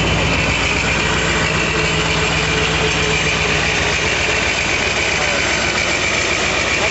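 Supercharged ZL1 Corvette with an F1R ProCharger, methanol injection and FAST XFI fuel injection idles loud and close, a steady deep rumble with rough, lumpy pulsing throughout.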